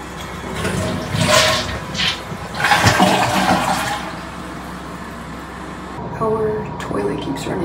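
A toilet flushes with a loud, close rush of swirling water that then falls away to a quieter refill trickle, while a person talks over it.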